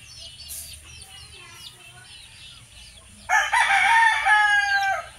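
Eight-month-old Super Bulik chickens give soft, scattered clucks and chirps before a rooster lets out one loud, close crow near the end, over a faint low background hum.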